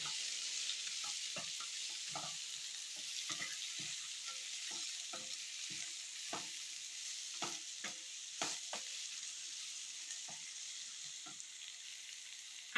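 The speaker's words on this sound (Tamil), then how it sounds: "எல்லாமே வெறும் எண்ணெய் தான் அதனால் எல்லாமே ஃப்ரை ஆகிடும்" Spices and cumin powder frying in plain oil in a pan for an oily eggplant dish, a continuous soft sizzle broken by frequent sharp scraping and stirring clicks, close and without voices.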